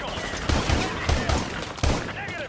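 Modern Warfare 2 Remastered video game gunfire, a rapid run of loud, punchy shots in several quick bursts with brief gaps, under no spoken words.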